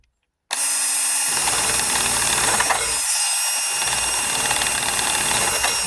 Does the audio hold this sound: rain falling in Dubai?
no